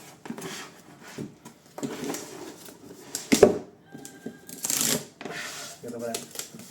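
Someone tears at a parcel box by hand, sharp cardboard rips, scrapes and a thump in uneven bursts, close up, while a voice talks between the noises.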